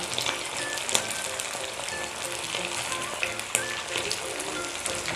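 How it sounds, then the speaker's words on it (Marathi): Sabudana vadas deep-fry in hot oil over a low flame, giving a steady, close sizzle with scattered pops and crackles throughout and no talking. "अशा प्रकारे आपण बाकीचे पण वडे तळून घेऊ. आणि मंद आचेवर तळायचे तर लक्षात ठेवा."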